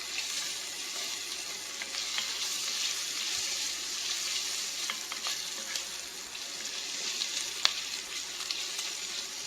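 Clam chowder simmers and sizzles in a pot, giving a steady, moderately quiet bubbling hiss with a few faint clinks and pops and no talking.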